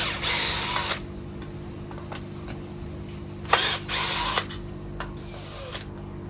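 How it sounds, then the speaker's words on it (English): A power drill or driver backs screws out of a pond filter bracket, with several whirring bursts of varying length close by and short pauses between them over a constant low hum. "So take all these screws off"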